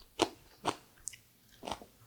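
Crisp bites into Korean radish pickle (mu jangajji) give three sharp crunches spaced about half a second apart and then a pause, close and clear, with one small click between them and no talking.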